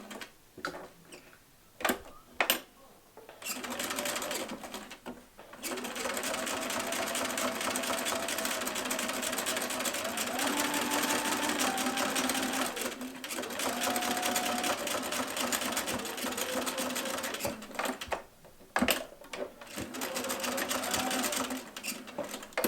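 Sewing machine stitching a tote bag, whirring in long steady runs with changing motor pitch, broken by short stops and quick bursts near the start and end; close and clear.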